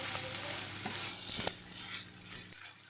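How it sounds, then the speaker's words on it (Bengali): Radish sautés in a pan with a mustard and poppy seed paste for a small mourala fish curry, giving a steady close sizzle with a few soft stirring clicks, and no voices. "খুব ভালোভাবে সর্ষে পোস্ত মূলোর সঙ্গে কষানো হয়ে গেছে"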